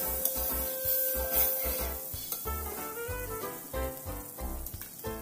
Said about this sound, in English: Magtunaw tayo ng kalahating kutsara ng margarine sa sizzling plate natin.